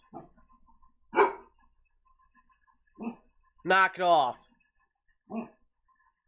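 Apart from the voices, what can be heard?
dog barking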